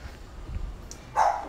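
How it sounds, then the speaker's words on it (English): Dogs barking in the background during a live Warhammer 40k Kill Team tabletop game, a short muffled outburst near the end of an otherwise quiet room. "Please excuse the dogs."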